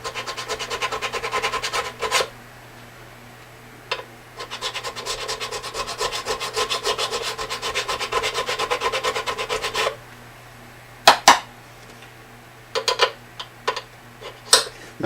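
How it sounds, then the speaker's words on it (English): A metal file scrapes in long, steady strokes across the frets of a Martin 000-28 acoustic guitar during fret leveling. The close, rasping passes run in a fast rhythm, then give way to a few sparse taps and brushes. "You can hear the file biting in when I do that too."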